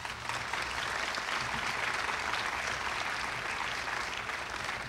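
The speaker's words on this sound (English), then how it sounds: "Another round of applause for Rodney Kite Powell" Audience applause for Rodney Kite Powell at a Friends of the Riverwalk event, a steady broadband clapping from a crowd sustained at even loudness for about five seconds with no one talking over it.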